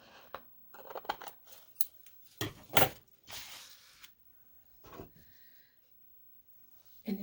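Scissors cutting paper for a snowman-themed scrapbook layout, a series of close, crisp snips and rustling slices in irregular bursts, separated by quiet gaps.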